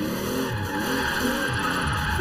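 Forza Horizon 4 car with a Fairlady Z chassis and a Supra engine making 1300 horsepower spins its rear wheels in second gear, a loud steady engine roar laced with continuous tire squeal throughout.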